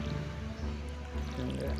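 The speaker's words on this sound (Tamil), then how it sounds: "போட்டதுக்கப்புறம் தண்ணி ஊற்றணும்" Watering freshly planted seeds in the farming game Stardew Valley, heard as a steady splashing, trickling stream of water that holds for about two seconds at moderate level, with no talk over it.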